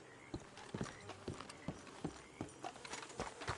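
Horses' hooves clip-clop at a steady walking rhythm in Red Dead Redemption 2, fairly close and distinct, with no talk over them.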